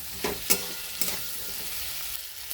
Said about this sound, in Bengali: এবার একটু ভালো করে এটাকে কষবো, আর সাথে দিচ্ছি কটা চেরা টমেটো।